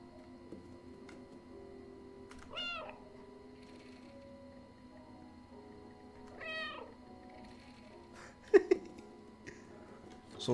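A cat in the video game Stray gives two drawn-out, rising meows a few seconds apart over a quiet hum, then a short sharp burst of clicking near the end.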